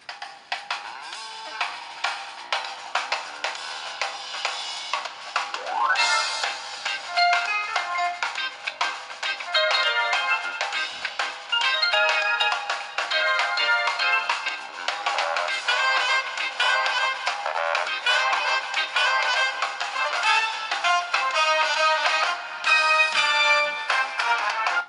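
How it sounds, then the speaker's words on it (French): A music track plays through the loudspeaker of an HTC One X phone, thin and bass-light but continuous and fairly loud, with no talking over it. "si je lance ici un morceau de musique"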